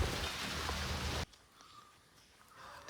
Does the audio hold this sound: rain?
yes